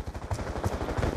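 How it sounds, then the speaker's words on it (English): Rapid gunfire in a shooter video game, a fast repeating burst of shots with an even rhythm, loud and close with no talking. "They're right in front of me, I shoot and they don't die."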